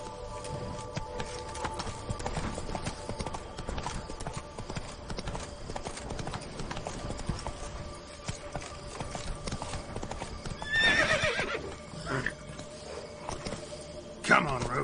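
Horse hooves clip-clop at a steady gait under a rider, the game horse Roach, beneath a continuous busy background, with voice-like sounds mixed in and a brief whinny-like burst near the end.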